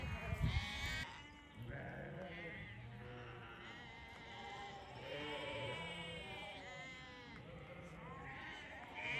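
Sheep in a flock in snowy, misty mountains bleat repeatedly, several animals calling in overlapping, wavering cries at close range, with a voice talking now and then among them.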